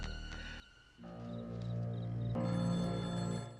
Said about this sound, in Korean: 정비소에도 전화가 오는군요